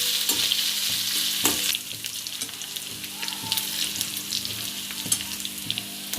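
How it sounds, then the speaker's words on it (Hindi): Green chilies and grated ginger sizzle steadily in a hot frying pan of oil, a close, continuous crackling fry with occasional stirring scrapes. "अब हरी मिर्ची डालेंगे। अदरक, कसा हुआ अदरक डालेंगे।"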